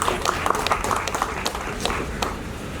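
Applause from the audience at a function in Mumbai, a dense patter of hand claps with a few sharper individual claps standing out, at moderate level and a little distant, with faint voices mixed in.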